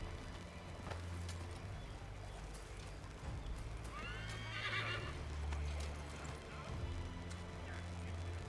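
A horse in the video game Assassin's Creed 3 gives a loud whinny midway, with hoofbeats clip-clopping along under steady game music and ambience.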